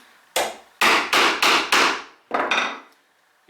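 Mallet blows driving a chisel to chop twin mortises in a wooden bench seat, six or so sharp, loud, close strikes in an uneven rhythm, each ringing briefly before the next.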